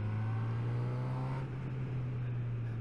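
A 2022 Honda CB1000R Black Edition with an inline-four engine drones steadily under acceleration, a loud and even note with wind rushing over it and no talk.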